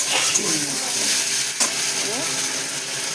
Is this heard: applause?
no